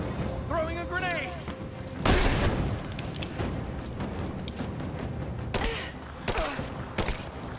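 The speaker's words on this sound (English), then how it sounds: "Throwing a grenade." A grenade detonates in the video game Rise of the Tomb Raider with a loud booming burst, followed by further bangs and crackling combat noise, while a player talks over the action.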